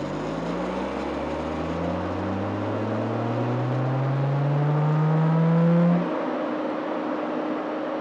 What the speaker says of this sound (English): The truck weighs 6 tons, and its wheels are controlled by a hydraulic system.